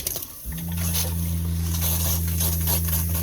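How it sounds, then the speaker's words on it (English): An RV water pump on a 2017 Keystone Hideout 27DBS starts up and runs steadily, drawing antifreeze through the plumbing lines with a loud, constant mechanical hum and whir under watery hiss. "Okay, so we got the pump on."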